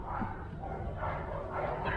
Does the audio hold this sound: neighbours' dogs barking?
yes